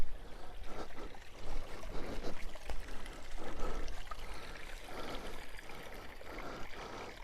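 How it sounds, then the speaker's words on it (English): A tiny waterfall in a pine forest pours and trickles continuously, a steady soft rush with gentle surges, no voices. "Hey, we got a little waterfall."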